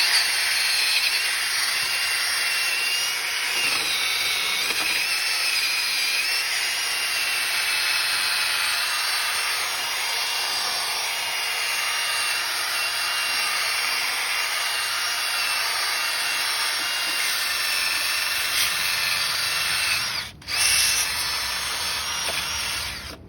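Wire wheel on a power tool scouring a truck's rear axle, a continuous loud grinding whine held steadily for over twenty seconds, close up, with a brief dip near the end.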